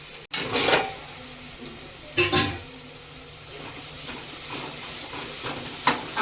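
Onions, green chillies and tomatoes frying in oil with curry leaves for a prawn curry, a low steady sizzle broken by a few sharp bursts of stirring against the pan.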